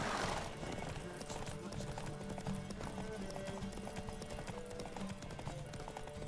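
Galloping horse hooves pound in rapid rhythm during a horse race in the video game The Witcher 3, continuous and fairly close, with a musical score underneath.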